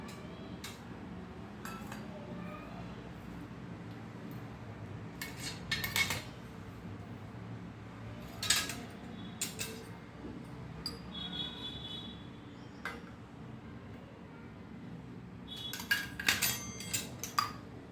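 Metal utensils clinking against a bowl while mixing food with coriander and oil, faint scattered taps and scrapes spread irregularly over a quiet background, a few louder clinks standing out.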